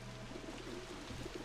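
Pigeons coo softly in a game world, a low, steady, repeated cooing that sits faint in the background over a constant ambient hum, with no talking.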